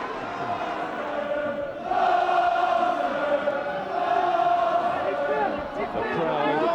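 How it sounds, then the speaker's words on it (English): Rugby crowd at a Newcastle Falcons match against Gloucester, 1997-98 season, roaring and chanting in a steady swell of voices that rises partway through, with a commentator talking over it. "The crowd in good voice."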